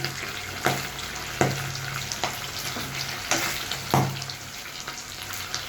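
Fish fries in oil with a steady close sizzle, broken every second or so by sharp spitting pops and crackles, and no voices.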